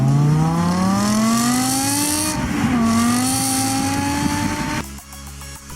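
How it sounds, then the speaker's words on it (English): A car engine revs hard, its exhaust note climbing and dipping in pitch, loud and close, before cutting off abruptly. "listening for good exhaust notes"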